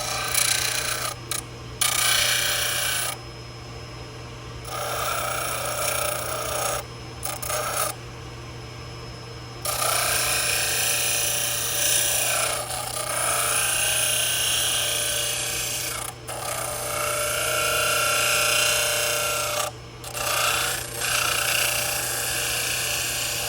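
Dental handpiece grinding and shaping a 3D printed full arch implant prosthesis, a steady high whining drill sound running almost continuously with brief pauses, close and moderately loud.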